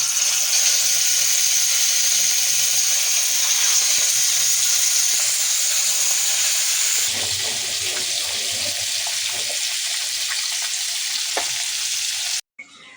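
Fish frying in a hot clay pot in oil gives a loud, continuous sizzling hiss that eases into softer crackles and faint clinks later, then cuts off abruptly near the end.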